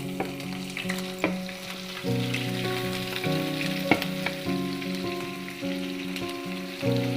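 Garlic, ginger, green chillies and curry leaves frying for sardine fish pickle, a loud continuous sizzle and crackle with repeated scrapes and knocks of stirring throughout.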